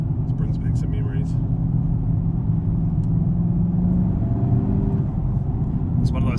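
A car's V8 engine idles in a deep, steady rumble throughout, loud and close, with faint voices in the background.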